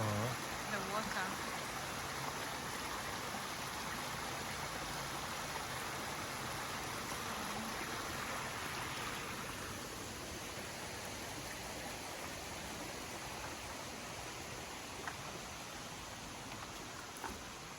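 Water from Choma Waterfall and its stream in Tanzania's Uluguru Mountains rushes in a steady, unbroken hiss that stays even and fairly soft throughout.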